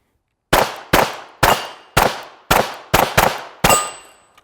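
Eight sharp, loud gunshots at a shooting drill, fired in a fast uneven string, each with a short ringing decay and a metallic ping near the end.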